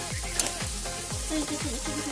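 Beetroot and carrot fried with ginger paste in a pan, sizzling steadily while being stirred, with repeated scraping strokes every half second or so, close and fairly loud.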